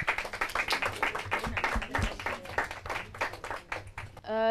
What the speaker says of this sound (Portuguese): uma salva de palmas para eles